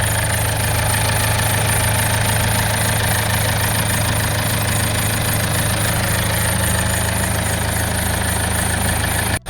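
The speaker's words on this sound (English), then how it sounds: "Once the car starts up, keep the revs on it, so basically it forces the fuel through" A 2010 Toyota RAV4 diesel engine idles steadily and loudly up close just after starting, a constant low rumble with a faint knocking rhythm and no voices.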